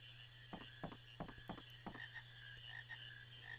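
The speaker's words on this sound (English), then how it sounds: "Looks like we got Kermit in trouble by handing Kermit a frog" Frog croaking in the video game Final Fantasy IX: a series of about five short, throaty croaks in quick uneven succession over a steady game hum, with fainter croaks trailing off afterward.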